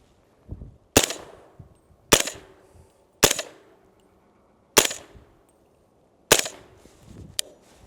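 A rifle fired through an AAC Omega 300 suppressor gives five sharp, close shots at uneven intervals. Each shot is a loud crack followed by a short decaying echo, with quiet gaps between.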